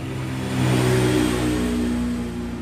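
A Yamaha Mio scooter engine, freshly reassembled after a CVT rebuild, revs up from idle to a steady, loud, close whine, then eases slightly while holding a droning pitch.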